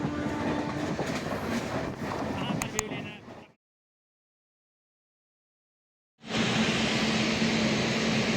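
A crowded Indian Railways passenger train rolls along with steady rumble and clatter, broken by a few seconds of silence before the dense rolling noise resumes, with people talking over it.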